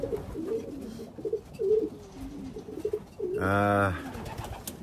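Racing pigeons give a single loud, close coo lasting under a second, rising out of a low murmur of quieter bird sounds and faint background noise.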